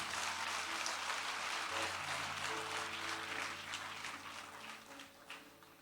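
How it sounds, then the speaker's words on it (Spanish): A church congregation applauds steadily, a dense wash of many hands clapping that carries on loudly and then slowly thins and fades toward the end. "Denle un fuerte aplauso al Señor."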